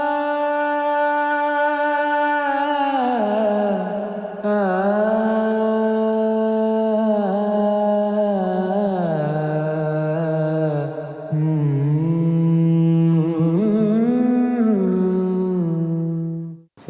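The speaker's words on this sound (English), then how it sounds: "So I had this idea of having a big string interlude." A big string interlude with a sliding, ornamented vocal line on top, sustained and loud throughout, swelling and gliding between notes before cutting off at the end.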